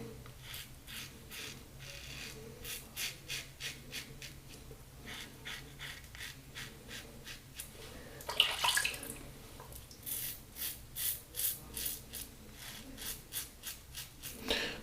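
Close, crisp rasps of a razor making a light against-the-grain pass over lathered stubble with Mitchell's Wool Fat soap, short strokes repeating in an even rhythm with brief pauses.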